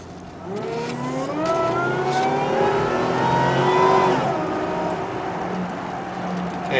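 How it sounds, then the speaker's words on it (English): A supercharged 1998 Oldsmobile LSS with the L67 engine accelerates hard, its engine note climbing steadily and loud through rising harmonics, then easing, with no talking. "You heard that supercharger? That was awesome."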